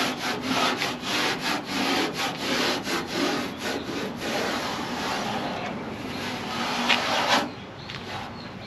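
Abrasive scuffing on a car tailgate surface, a steady rhythmic back-and-forth rasping strokes, close and loud, continuing for several seconds with no talk.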